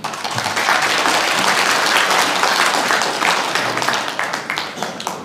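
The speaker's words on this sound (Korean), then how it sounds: "박수 한번 주십니다" Loud, full applause from an audience at a speech honouring a National Assembly member, many people clapping together in a thick continuous burst that tapers slightly toward the end.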